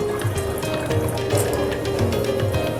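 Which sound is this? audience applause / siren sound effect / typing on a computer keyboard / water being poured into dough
water being poured into dough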